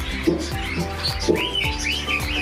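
Birds chirp and tweet in short repeated calls, fairly close and clear, with a few cooing notes mixed in over a steady background.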